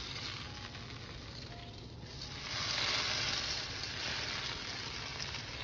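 Butter and a drizzle of canola oil sizzling in a hot frying pan, a steady close hiss that swells slightly midway and holds.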